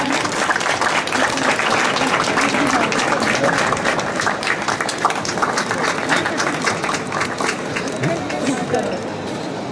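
A crowd claps in sustained, dense applause at a latte art championship awards ceremony in Tokyo, loud and even throughout, with no breaks.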